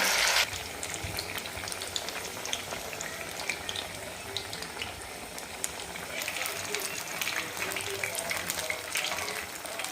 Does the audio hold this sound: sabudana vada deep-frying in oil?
yes